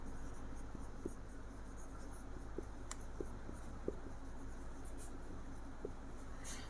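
Faint, soft scratching of writing on a board while a math problem is solved, a quiet stretch with small taps and strokes at irregular intervals over low background hum.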